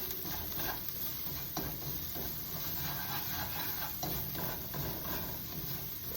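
Minced garlic browns in a hot pan with a steady, soft sizzle and occasional stirring scrapes, low and continuous with no talking.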